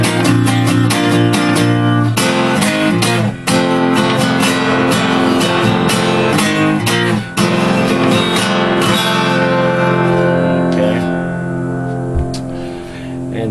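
Acoustic guitar strumming a song, with steady rhythmic chords ringing loud and close throughout and a final chord left to decay at the end.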